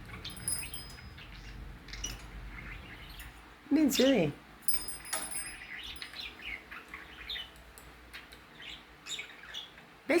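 A pet budgie named Emerald chirps and tweets indoors, with a loud warbling call near the middle among scattered softer peeps, while a person speaks to it.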